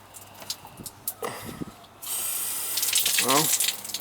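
An outdoor shower head, leaking badly, turned on and spraying water with a loud, steady hiss, after a few seconds of clicks and handling noises, while someone speaks briefly.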